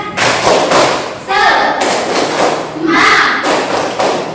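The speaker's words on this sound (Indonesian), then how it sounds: "kita tepuk semangat dulu ya" An Indonesian schoolteacher's class does the 'tepuk semangat' clapping chant, a dense burst of rhythmic claps and thumps in patterned phrases with voices chanting along throughout.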